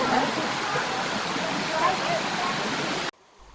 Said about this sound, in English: The waterfall is 34 metres, nothing to write home about